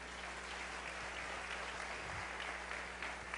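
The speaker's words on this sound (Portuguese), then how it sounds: "Vamos aplaudir o Senhor, vamos." A congregation applauds during a church service, a steady wash of clapping filling the space for a few seconds with no one speaking over it.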